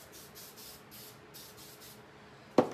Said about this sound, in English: A real quick spray of it.